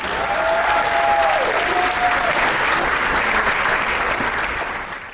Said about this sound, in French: Applaudissez pour Henriette, s'il vous plaît